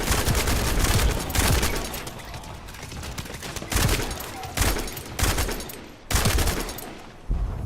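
Sustained automatic gunfire from the sci-fi looter shooter The First Descendant, dense rapid bursts roaring loud and close, broken by a few short pauses between volleys.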